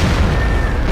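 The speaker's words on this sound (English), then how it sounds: "Signal to Goodman with a large explosion" A large explosion in the No One Lives Forever video game lands as a loud, dense boom that fills the whole stretch, with a broad rumbling roar that holds throughout.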